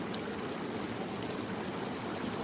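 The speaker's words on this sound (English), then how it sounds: "there's the waterfall." A waterfall roars as a steady, dense rush of splashing water, continuous and fairly loud throughout with no voices.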